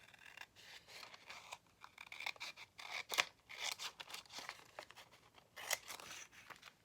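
Scissors cutting through thick envelope paper for a junk journal booklet, a run of close, crisp snips and paper rasps in an uneven rhythm with a few louder cuts, quiet, no talking.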